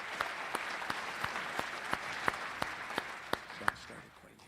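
Audience at a Tony Legando show at The Chapel clapping steadily for a few seconds, dense applause with a few sharp claps standing out, fading slightly at the end.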